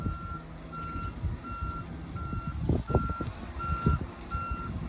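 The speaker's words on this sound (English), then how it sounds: "Beep, beep, beep, beep, beep, beep." A truck's reversing alarm beeps steadily at a regular rhythm, moderately distant, over low engine rumble and background noise outdoors.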